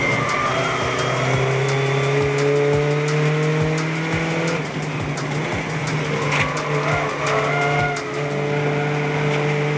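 Race cars circle a track at the 2022 Birkett Relay, a race with some 300 cars. Several engines drone in steady overlapping tones throughout, with rising and falling passes and a loud, continuous roar.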